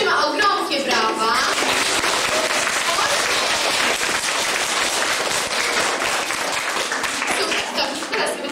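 Applause at a school event for a student participant, a lively burst of many hands clapping close by, sustained and slightly tapering over several seconds, with faint voices mixed in.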